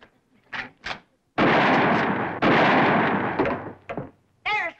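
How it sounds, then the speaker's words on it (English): Two loud, booming shotgun blasts aimed at a telephone wire in a rural TV comedy scene, each a long, roaring burst with brief vocal sounds before and after. "It took you 2 shots to get that wire."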